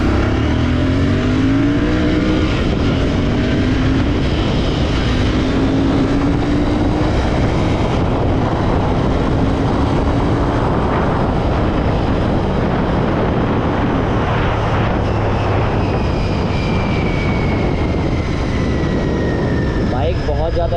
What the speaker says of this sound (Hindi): मैं थोड़ा सा भगा के दिखाता हूँ आपको। अभी बाइक दूसरे गियर में है